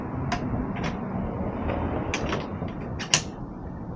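A Rabaconda street tire changer levers a tire off its rim, giving a steady mechanical grind with scattered creaks and squeaks, ending in one sharper snap near the end, close by and with no voices.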